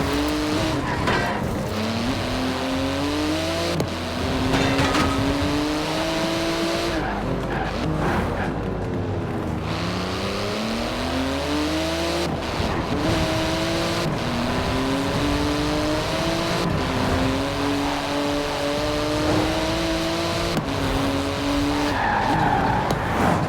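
A Porsche GT2 RS in Forza Horizon 4 races hard with its engine rising and falling through gear changes, while tires squeal and skid through repeated slides, loud and continuous.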